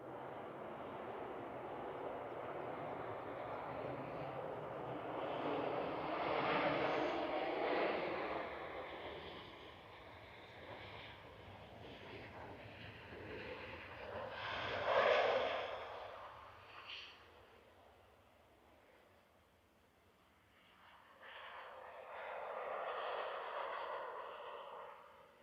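An airliner lands at Manchester Airport. A distant jet rumble rises and fades in waves, then a louder burst follows as it slows on the runway, and a faint voice is briefly present.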